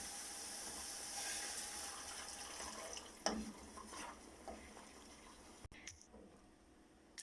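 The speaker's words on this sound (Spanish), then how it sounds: "desglasaremos con un poco de agua." Water goes into a pan of cooked vegetable sofrito to deglaze it during lentil preparation, giving a faint, continuous watery sizzle and bubbling with a few soft clinks.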